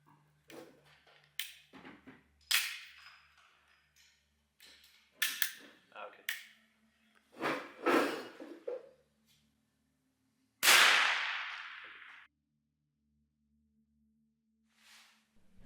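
A Springfield Armory M6 survival gun fires at a range, giving sharp, snappy reports at irregular intervals. One louder shot rings out with a long fading tail, and quieter handling clicks fall between shots.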